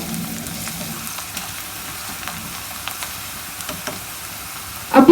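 Onions frying in a pan until brown for an arvi gosht curry, a quiet steady sizzle with faint crackles and a sudden louder clatter of stirring at the end.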